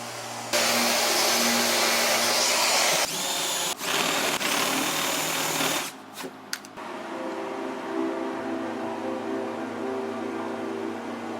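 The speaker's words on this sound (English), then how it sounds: "uses a Rotex to sand down the individual pieces to get a smooth finish" A Rotex sander works over synth case pieces with a loud steady whine and hiss that cuts out briefly a few times, then drops to a quieter hum.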